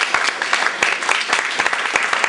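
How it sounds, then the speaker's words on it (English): Dense applause from a conference audience at RevCon 2005 for Scott Rossi, with many hands clapping continuously and loudly all the way through and no clear speech. "So let's give a big round of applause to Scott Rossi."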